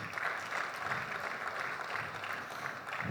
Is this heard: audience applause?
yes